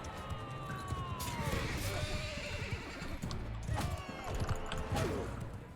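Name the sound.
horse neighing and hooves galloping in Mount & Blade 2: Bannerlord video game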